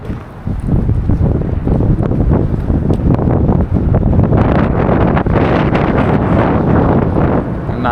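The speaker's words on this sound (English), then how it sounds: "Man, it's kind of windy." Steady wind buffets the microphone at a bridge over the Intracoastal Waterway during a fishing trip, a loud, continuous broadband roar with gusty surges and brief bits of talk mixed in.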